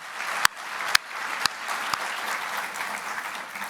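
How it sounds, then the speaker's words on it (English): At a development conference keynote, the audience gives a round of applause for the sponsoring organizations. The clapping is steady and moderately loud, with a few sharp, louder claps standing out near the start. "So if we could give them a round of applause."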